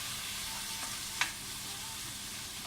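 A Hawaiian pizza pasta bake is stirred in a pan over a steady low sizzle, with one short scrape of the spoon partway through; no one speaks.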